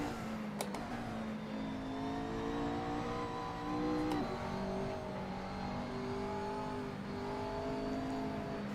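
A Datsun car drives along and accelerates, its engine a steady moderate hum with rising and shifting tones, heard from inside or nearby with no talk.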